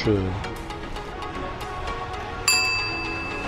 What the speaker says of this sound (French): La sonnette fonctionne.